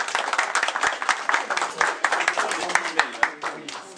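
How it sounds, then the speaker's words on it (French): Supporters at a political meeting in Paris clap, a sparse, uneven patter of individual hand claps from a modest crowd that continues for several seconds, with voices faintly mixed in. "Applaudissez quand même"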